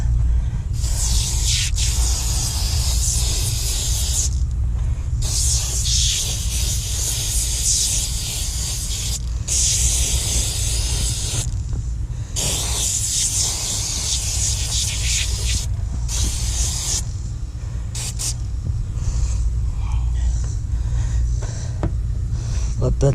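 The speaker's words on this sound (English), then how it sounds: "I have the bathroom cleaner again. I'll spray it on." Sharp bursts of hissing spray from a bathroom cleaner bottle, sprayed under the hood of a 1995 Dodge Dakota Sport, repeat in quick, irregular pumps close to the microphone, with a steady low rumble running underneath.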